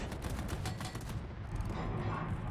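Naval gunfire in World of Warships from a Des Moines battle, a rapid series of booming shell impacts and rumbling blasts over constant low background roar.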